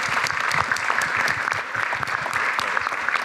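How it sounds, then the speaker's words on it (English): Audience giving panelists a round of applause at a citizenship discussion event, a dense, sustained wash of many hands clapping at a steady level throughout. "Can we give our panelists a round of applause?"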